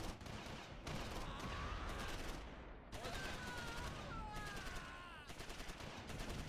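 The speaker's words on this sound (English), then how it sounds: "Just gonna have to let the mortars blow over, I suppose." Mortar and gunfire in the Close Combat strategy game, a dense continuous wash of distant rumbling blasts and crackling shots, with faint tonal whistles sweeping through the middle and end.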